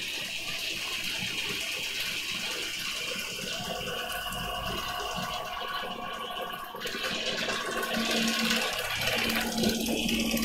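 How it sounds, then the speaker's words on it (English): Water chiller of a scanning electron microscope running: a continuous rushing, watery hiss with a steady hum underneath fills the room, growing slightly louder partway through and holding steady to the end. "the water chiller kicked in as well"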